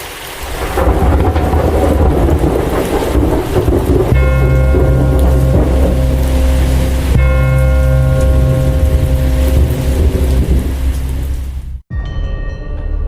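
Heavy thunderstorm at night with steady loud rain and rolling rumbles of thunder throughout, close and continuous, ending in a brief cut to near-silence.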